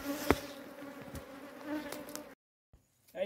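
Bees buzz around a honey-filled hive on a rocky cliff face, a steady close drone with a few louder passes, then a sudden drop to near silence before the buzzing returns.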